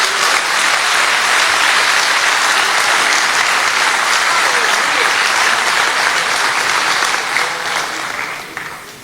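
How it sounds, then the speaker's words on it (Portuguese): A church congregation breaks into loud, sustained applause that carries on for several seconds and then tapers off toward the end. "Se você crê nisso, aplauda Jesus Cristo"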